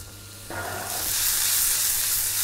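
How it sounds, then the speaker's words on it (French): Onions hit hot olive oil in a pan, and the quiet background jumps into a loud, bright sizzle that builds and holds as a steady hiss close up, with no talking. "On va mettre les oignons."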